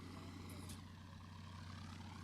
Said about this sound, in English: Just the sound of a radial engine.